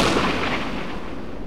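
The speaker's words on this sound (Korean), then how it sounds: "눈발 사이로 주황색 화염이 한순간 피어오르더니 뒤이어 폭발음이" An artillery cannon fires in an open snowy field during a military exercise. A single loud, broad blast rumbles and slowly fades away.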